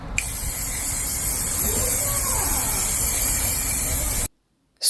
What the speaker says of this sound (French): je bombe d'abord le carton et je mets vraiment une grosse quantité de peinture sur le carton